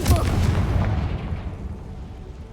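A Confringo explosive spell cast in the video game Hogwarts Legacy bursts with a loud, near boom that rumbles and fades away over about two seconds.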